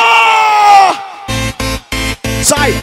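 A concert crowd in a loud party setting screams and cheers in a long sustained roar, then breaks into four short, loud bursts of shouting in a rhythmic call pattern.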